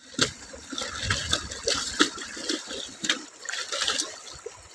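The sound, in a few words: water flowing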